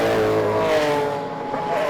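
Race cars, a Ford Mustang among them, roar around a circuit during a one-hour endurance race, engines loud and sustained with rising and falling revs close by.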